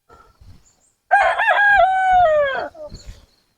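A rooster gives one loud, drawn-out crow close by, with soft chicken clucks before and after it in a quiet farmyard.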